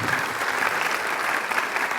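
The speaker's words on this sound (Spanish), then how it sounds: "Denle un aplauso al Señor" Steady, dense applause from a church congregation fills the whole stretch at an even, moderate level, with no voices rising above it.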